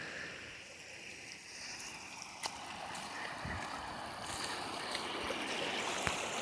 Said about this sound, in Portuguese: A água não tem pela onde descer, tá descendo por ali, ó.